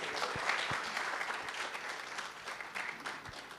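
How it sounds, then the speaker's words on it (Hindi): Audience clapping at a music talk event, a moderate, fairly distant round of applause with a few sharper low thumps mixed in, continuing steadily without voices. "तो एक बार जोरदार ताली बजा दो इनके लिए"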